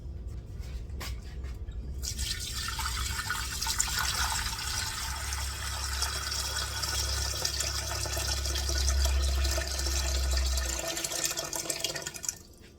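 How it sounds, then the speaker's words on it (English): Cold water runs from a tap into an empty metal canner for canning beans, a steady close gushing and splashing stream that starts after a faint moment and fills the pot, then cuts off near the end. "I'm going to put in a couple inches of water in the bottom of it, cold water"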